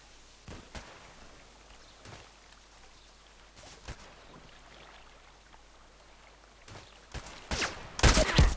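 Sniper rifle shots in a shooting game on a lake map: scattered sharp cracks over a steady rushing background, growing louder and closer together toward the end.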